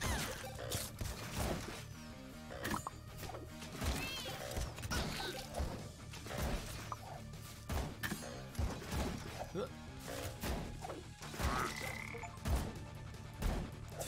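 Frogs croaking in a video game, repeated loud croaks and thumping hits in a busy stream of battle sounds and effects.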